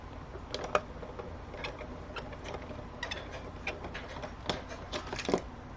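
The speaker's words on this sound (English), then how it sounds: "Run it through your diamond press Marquise machine." Diamond Press Marquise die cutting machine feeding a card through, a quiet run of irregular mechanical ticks and clicks over a low steady hum.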